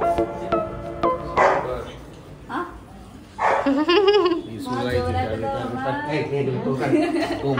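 A dog barks in the background of a home, with a quick series of sharp barks early on followed by people talking and laughing over the rest.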